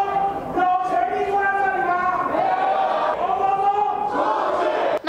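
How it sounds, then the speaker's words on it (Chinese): Legislators in a parliament chamber shouting slogans together, a loud massed chorus of raised voices chanting continuously at close range. "双方更是一同高喊口号"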